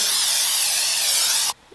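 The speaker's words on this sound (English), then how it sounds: "I'm gonna go ahead and spray it with some cooking spray." Cooking spray hisses into a crock pot in a single steady burst of about one and a half seconds, close and loud, then cuts off abruptly.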